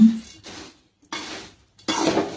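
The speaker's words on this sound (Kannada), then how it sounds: "ಇವಾಗ ಸ್ವಲ್ಪ ಸಕ್ಕರೆ ಪುಡಿ ಹಾಕೋಣ. ಸಕ್ಕರೆ ಪುಡಿ ಹಾಕಿ ಚೆನ್ನಾಗಿ ಕಲಸೋಣ." Powdered sugar being mixed into spicy puffed rice mandal in a metal vessel, three separate scraping, rustling stirring strokes with short pauses between, close and fairly loud, no talk over them.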